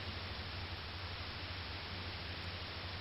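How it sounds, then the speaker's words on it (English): Fuzzy TV white-noise static from the video game Fear & Hunger 2: Termina hisses steadily and evenly at a fairly quiet level, with a low hum beneath it and no voices. "You can only see white noise."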